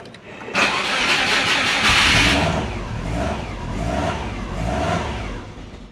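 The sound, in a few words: Subaru Forester engine cranking and starting with throttle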